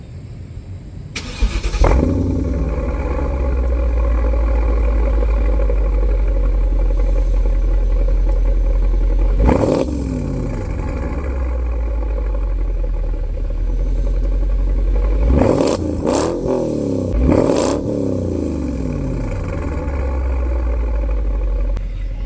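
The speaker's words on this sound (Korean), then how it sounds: "배기음 한번 들려드릴게요" A 17-year-old car engine idles with a deep, steady rumble, then revs sharply several times, with bursts of exhaust roar between the calmer stretches.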